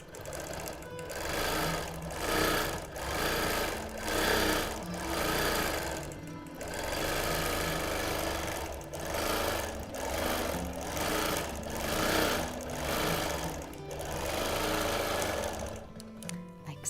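A quilting machine stitches star patterns across a Quilt of Valor in repeated bursts of fast mechanical whirring, each run a second or two long and separated by brief pauses, close and moderately quiet.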